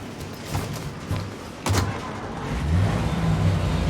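A car drives in Mafia Definitive Edition, a steady engine hum that swells and rises in pitch, close and continuous, with a brief whoosh partway through.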